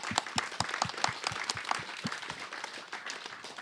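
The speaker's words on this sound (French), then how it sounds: "je pense qu'ils méritent vraiment des grands applaudissements" Applause at an environment and health conference honouring whistleblowers, with distinct individual hand claps standing out against a wash of crowd clapping that stays moderately loud and tapers slightly near the end.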